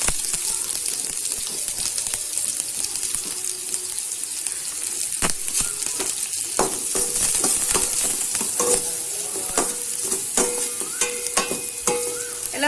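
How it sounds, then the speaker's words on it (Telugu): Onions, capsicum and carrot fry in a hot pan for restaurant-style Schezwan fried rice, giving a steady loud sizzle broken by scattered clinks and scrapes of stirring, with no voices. "ఆనియన్స్ ఫ్రై అయ్యాక క్యాప్సికమ్ యాడ్ చేసుకోవాలి. అలానే క్యారెట్ కూడా యాడ్ చేసుకోవాలి."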